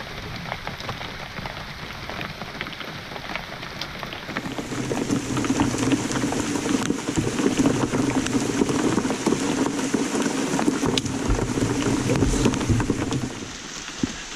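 Torrential rain pours onto water during an evening paddle, a dense hiss of countless drops that swells louder midway and holds steady, with no voices.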